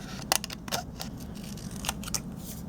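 Scissors snip through paper scraps while a Christmas card sentiment is cut out, giving several short, sharp, close cuts in an uneven rhythm with quiet gaps between them.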